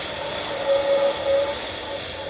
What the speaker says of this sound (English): So you'll see a lot of the anthers will fall off because of I'm vacuuming all of it